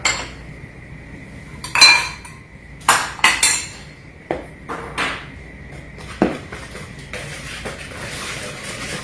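Kitchen utensils clink and scrape against a bowl while banana nut bread batter seasoned with nutmeg and cinnamon is mixed, with several sharp knocks and taps followed by steady softer scraping, close and clear with no talk.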